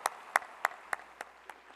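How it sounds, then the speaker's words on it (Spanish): Short, sparse applause from the audience at a 2010 Mexico Siglo XXI event on technological preparation, about six distinct sharp claps spaced evenly and fairly close, fading slightly toward the end. "un gran aplauso, por favor"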